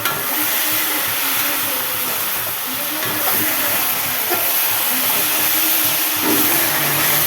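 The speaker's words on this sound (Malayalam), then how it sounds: "ഇനി നമുക്ക് തേങ്ങ അരച്ച് മഞ്ഞൾപ്പൊടിയും തേങ്ങയും കൂടെ നല്ല ഭംഗിയായിട്ട് അരച്ച്" Steady loud whirring roar of a mixer grinder grinding coconut with turmeric powder, running continuously with a dense hissing motor noise and no pauses.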